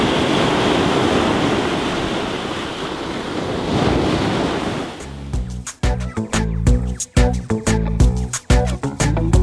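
Ocean surf at Daeri Beach in Busan, South Korea, a steady loud wash of waves mixed with wind buffeting the microphone, which gives way partway through to choppy, gusty noise.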